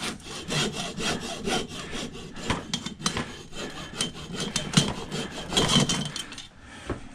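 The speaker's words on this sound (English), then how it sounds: "cutting it with a hacksaw" A hacksaw cuts through copper scrap on a workbench, giving steady back-and-forth rasping strokes with a regular rhythm, close and moderately loud throughout.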